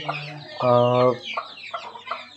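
A free-range village hen clucks close by with one drawn-out, buzzing call, and fainter high chirps of chicks sound around it.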